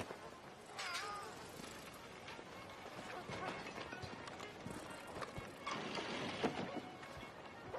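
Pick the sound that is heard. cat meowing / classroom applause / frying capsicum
cat meowing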